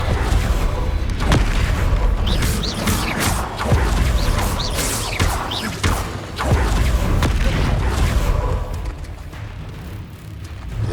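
Spell-casting combat in the video game Hogwarts Legacy: dense, continuous magical bursts, booms and crackling impacts layered over a rumbling score, loud and busy throughout with repeated sharp hits and no pauses.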